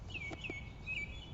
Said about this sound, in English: You hear the chirpings? You hear the birdie birds?